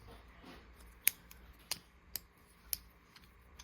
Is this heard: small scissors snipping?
yes